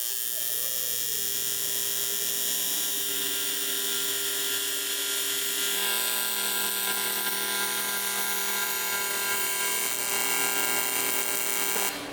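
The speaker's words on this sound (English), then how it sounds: "now I'm ready to finish weld these joints" A welding torch makes a steady, loud, continuous hiss and crackle as joints on a metal part are finish-welded after tacking.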